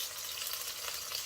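Ginger and garlic frying in a pot for a samp and chicken dish, a short, even, hissing sizzle at moderate volume with nothing else heard.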